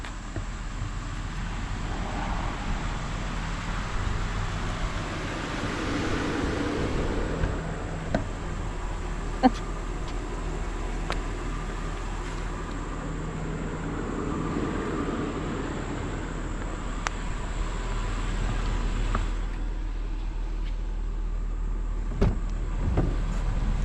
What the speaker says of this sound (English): We're going out in the tripped out elderly vehicle